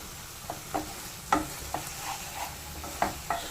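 Tomato curry spooned from a pan into a serving bowl. About eight separate scrapes and clinks of the spoon against the pan come at an uneven pace, with a faint sizzle underneath.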